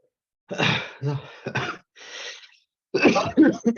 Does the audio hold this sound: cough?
yes